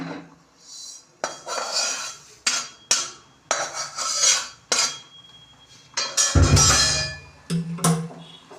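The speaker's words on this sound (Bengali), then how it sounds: "চালটা এর মধ্যে দিয়ে দিলাম এবার চালটা সমেত ঝোলটা ফুটুক" Rice tipped into a pot of simmering katla fish-head broth for muri ghonto: a series of close clinks and scrapes of utensils against the pot, with a fuller rushing pour and splash near the end. No one talks.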